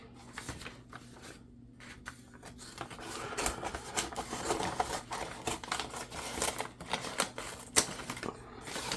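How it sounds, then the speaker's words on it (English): A paper bag being cut to make a book cover produces close, crisp, rapid crackling and clicking, uneven in rhythm and continuing throughout without speech. "So I'm going to cut it right here."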